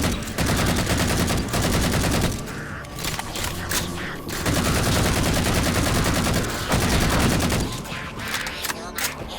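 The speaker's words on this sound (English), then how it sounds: "I do like the weapon sound in this game" Rapid automatic weapon fire from the Halo 4 prologue rattles in long, dense bursts, loud and close, broken by short pauses and mechanical clicks.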